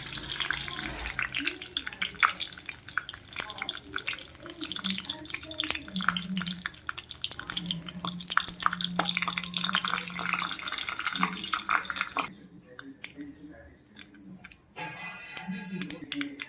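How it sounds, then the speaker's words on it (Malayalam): Mustard seeds crackle and pop in about two tablespoons of hot oil in a pan, a busy, close sizzle of tiny bursts that thins out toward the end while someone talks over it. "കടുക് പൊട്ടി വന്നു."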